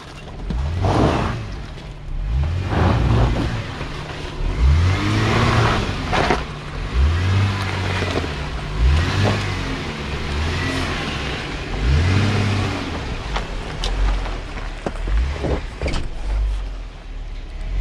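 Car engine revving repeatedly in short surges as the vehicle creeps up onto a small rock at the end of a rough lakeside road, loud and close with rhythmic throttle bursts and no talk.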